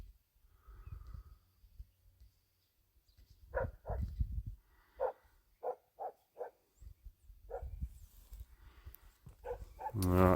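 A dog barks at the ground outdoors in a series of short, separated barks at moderate distance, some in quick clusters, against a quiet background with faint rustling.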